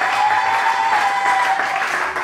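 Church congregation clapping during a service, steady dense applause filling the whole stretch at a constant level, fairly close.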